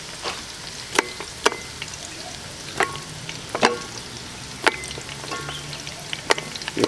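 Garlic frying in a pan for a lamb paya dish: a steady, close sizzle with sharp clacks of a utensil stirring against the pan at irregular moments, and no talking.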